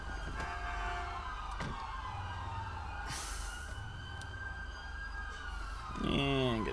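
Emergency siren from an ambulance responding code 3 in Grand Theft Auto V, wailing steadily across the clip with engine and traffic rumble beneath, rising into a louder sweeping yelp near the end.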